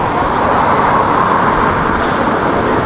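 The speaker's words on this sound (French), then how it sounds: "Là, c'est les avions militaires en fait. Là c'est des hélicoptères" Military aircraft and helicopters flying over London during the Platinum Jubilee, a loud, continuous broad engine roar overhead that stays steady throughout, with no talk.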